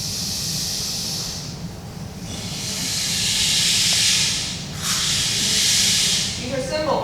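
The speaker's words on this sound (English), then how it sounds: "I've got 2 rain sticks, a smaller one and a larger one." Two rain sticks, one small and one larger, pour a steady hissing cascade of beads in long swelling waves, rising and falling over several seconds, heard alone with a faint low background rumble.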